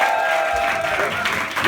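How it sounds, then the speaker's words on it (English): Steady applause from a comedy club audience after a stand-up night in London, dense continuous clapping with crowd noise throughout, loud and close, swelling slightly near the end. "It's a party round of applause."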